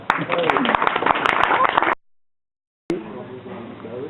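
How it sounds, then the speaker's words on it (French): An audience applauds a group at a Lego Serious Play discovery workshop, a dense patter of clapping for about two seconds, then a pause before talk resumes. "Vous pouvez les applaudir."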